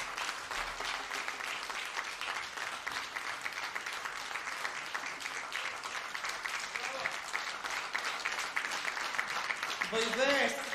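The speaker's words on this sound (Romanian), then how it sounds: "vă mulțumesc pentru aplauze" Audience at a concert at the Crizantema de Aur festival claps in steady, dense, sustained applause that stays even throughout before a voice begins speaking at the end.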